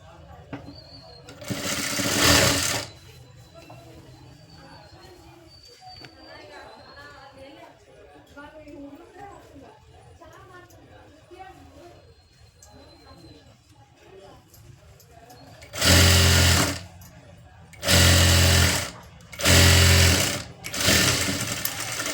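A sewing machine stitches a blouse sleeve: one loud, rattling burst of rapid stitching near the start, then a stretch of talk, then three more short, loud runs of stitching in quick succession close by.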